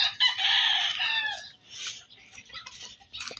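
Chickens awaiting slaughter, with a loud close rooster crow at the start followed by scattered clucks and softer calls trailing off, no talk.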